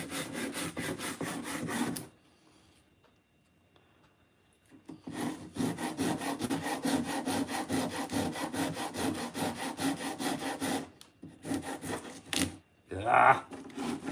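A hand rasp files and carves slot car foam in long runs of rough, rhythmic scraping strokes, broken by a short quiet pause early on and ending in a few choppier passes.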